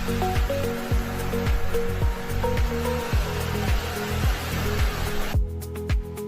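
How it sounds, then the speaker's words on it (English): A remote-controlled firefighting vehicle blasts a long-range water spray, a constant rushing hiss over pulsing background music that cuts off near the end. "Long spray range for covering large fire areas"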